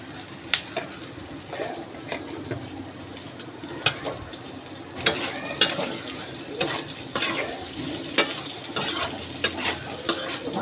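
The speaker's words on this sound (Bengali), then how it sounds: "এখন আমি এটা ভাজবো তেলে।" Sliced boiled eggs fry in oil in a pan: a soft, fairly quiet sizzle with frequent clinks and scrapes of a utensil against the pan, irregular and close.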